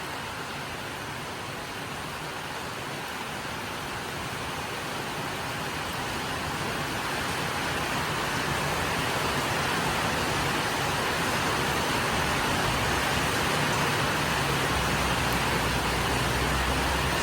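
Heavy rain in Surin, Thailand, roars in a dense, unbroken hiss with slight wind, growing slightly louder and staying steady throughout.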